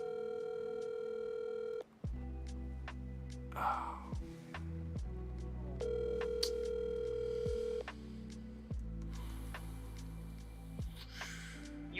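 Telephone ringback tones on an outgoing call, a repeating series of steady electronic tone bursts separated by short gaps, with faint breathy sounds between them.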